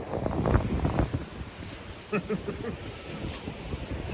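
Wind gusting at Overlook Beach on the Atlantic Ocean, Long Island, a rumbling buffeting rush with surf noise underneath and brief voice-like sounds partway through.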